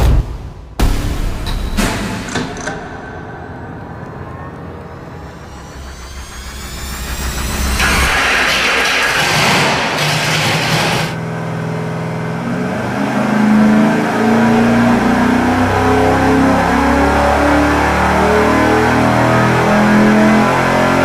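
Ford vs Mopar stroker V8 engine, the 408 Mopar among them, cranks and fires on a dyno, then revs and holds a loud, steady roar that climbs in pitch, close and dominant throughout.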